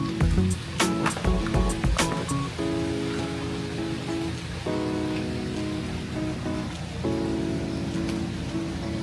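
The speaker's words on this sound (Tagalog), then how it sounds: "Lakas ng hangin at ulan." Strong wind and rain outside a cabin in West Virginia make a steady, dense wash, with heavier bursts early and sustained tonal ringing layered over the downpour throughout.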